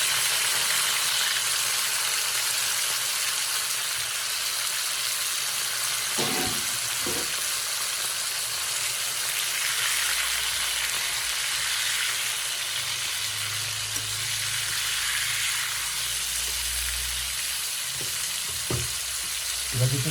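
Chicken meat for thukpa soup sizzles lightly in a pan with a steady crackle, broken by occasional stirring clinks and scrapes.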